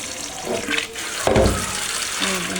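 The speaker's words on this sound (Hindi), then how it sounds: "पानी डाले इसके अंदर, अब हम इसको रखने लगे ये चूल्हे के ऊपर।" Water is poured into a pot of meat and peas in a home kitchen, a close gushing splash in two short bursts with a softer trickle between them.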